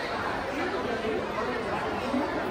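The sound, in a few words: crowd chatter at busy Tirupati railway station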